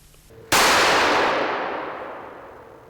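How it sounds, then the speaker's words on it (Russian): A single sharp gunshot sound effect cracks suddenly and loudly out of near silence, then rings and decays slowly over a couple of seconds. "Но выстрел прогремел."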